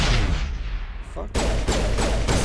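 Rapid gunfire from shooting enemies in Mass Effect, on the icy world of Noveria: a burst of shots, a brief lull, then a loud stuttering volley of evenly spaced cracks.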